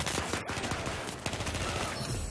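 Rapid bursts of gunfire from a .338 Recon sniper rifle in a first-person shooter game, loud and dense, with cracks closely spaced across the whole stretch and no talk over them.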